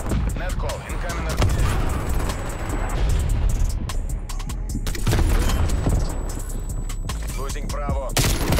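Incoming artillery barrage in the video game Call of Duty: Black Ops Cold War, heavy repeated booms and gunfire crackle filling the mix, with players talking over the battle.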